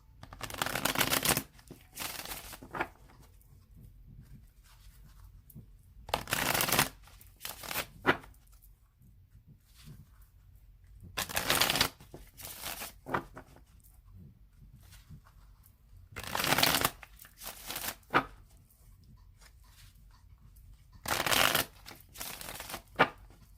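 Repeated bursts of card shuffling, each a quick riffle lasting a second or two, separated by short quiet pauses; close and crisp, no talking.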